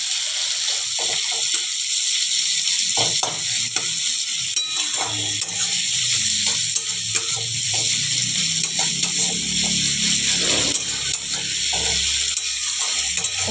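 Chopped onions fry in hot oil with white cumin in a pan, giving a steady continuous sizzle with intermittent stirring scrapes throughout, and no talking.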